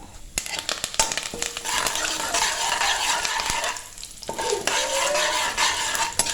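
Cashew nuts and curry leaves fry in hot oil, a loud, close crackling sizzle that flares sharply as the leaves go in, with spoon scrapes against the pan and no talking.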